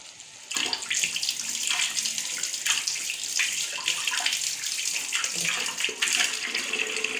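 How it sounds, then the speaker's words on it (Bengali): Water pours steadily into fried spice paste for a curry with chhana bora, potol and potato, making a continuous rushing, splashing hiss that runs close and fairly loud without a break. "এবার আমি এতে জল দিয়ে দেবো।"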